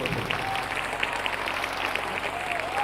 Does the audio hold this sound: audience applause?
yes